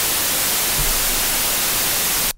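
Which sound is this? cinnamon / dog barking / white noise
white noise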